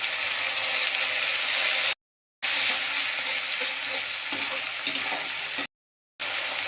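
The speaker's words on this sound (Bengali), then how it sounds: "এবার আমি যে টমেটো পেস্ট করে রেখেছি এর মধ্যে দিয়ে দেবো।" Onion and tomato paste fry in a hot pan, giving a steady, loud sizzle that is briefly cut off twice, with a few faint scraping stirs and no talking.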